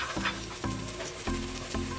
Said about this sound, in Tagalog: So, magigisa na tayo ng bawang